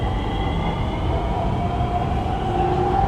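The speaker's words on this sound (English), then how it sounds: "Yeah, so this is a typical commuter train." A Bangkok Purple Line MRT commuter train runs steadily, a constant low rumble of wheels and carriage noise heard from onboard with a faint sustained motor whine rising through it.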